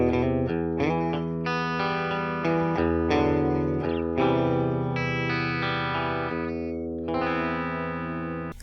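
Electric guitar played through the clean channel of a Boss Katana amp, bright and clean, strummed chords and picked notes ringing steadily with a touch of shimmer, no voices.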